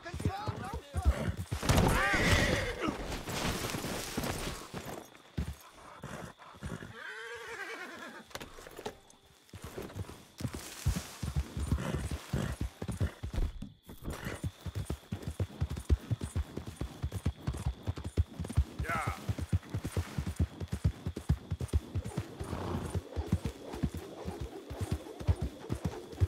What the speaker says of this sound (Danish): Åh, den her hest her, den irriterer mig.